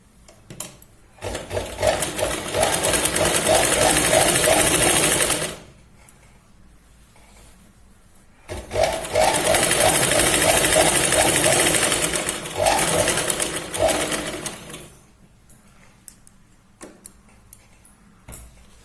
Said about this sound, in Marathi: इथे आपण 2 वेळा शिलाई लावून घेऊया, व्यवस्थित मॅच करून घेऊया.